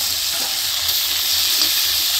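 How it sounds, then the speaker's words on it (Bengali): Raw papaya and potato pieces frying lightly in a pan, a steady bright sizzle and hiss running evenly throughout, close and alone with no talk. "পেঁপে আর আলু আমি হালকা করে ভাজিয়ে নিচ্ছি"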